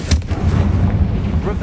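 A Confringo fire-blast spell going off in the Hogwarts Legacy video game, a sudden loud booming burst with a heavy low rumble that lingers and rolls on for over a second.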